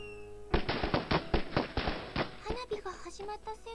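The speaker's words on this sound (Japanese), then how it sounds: "今の花火が私にとって今年最初の花火。" Fireworks bursting during a summer festival scene in the Japanese dating game Girlfriend (Kari): a rapid series of sharp pops and bangs over about two seconds, then trailing off as music-like tones and game voices take over.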